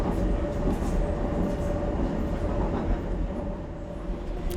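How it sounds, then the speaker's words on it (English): A DLR light rail train runs along a viaduct in London, its traction motors whizzing beneath the floor in a loud, steady rumble with a faint whine running throughout. "I'm back on the DLR, as you can probably hear from the motors whizzing underneath my feet"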